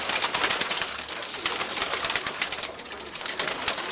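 Young pigeons flap their wings hard in a close, busy flurry of rapid wingbeats, with soft cooing underneath.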